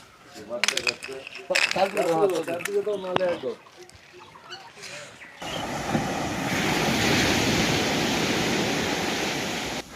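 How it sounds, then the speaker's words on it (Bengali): Sea waves wash in a broad, steady roar after a stretch of people talking on Mousuni Island, the surf rumble rising and holding for several seconds. "এটা কিন্তু সমুদ্রের জলের আওয়াজ।"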